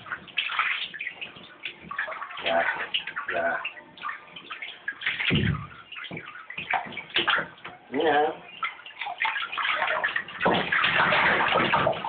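Pet ferrets being bathed, with splashing and sloshing water in a tub coming in bursts and surges, close and fairly loud, while people talk intermittently over it.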